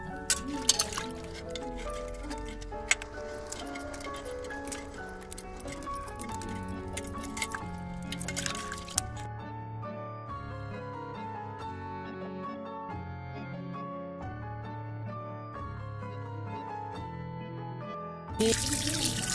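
A crab is rinsed under a running kitchen tap, with water streaming steadily and splashing over the shell, a busier sloshing stretch giving way to a smoother flow, and no one talking.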